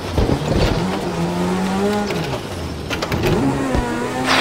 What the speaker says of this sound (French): Il arrive très vite au rupteur en première